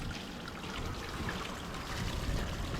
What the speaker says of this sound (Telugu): బాగా శుభ్రంగా కడుగు.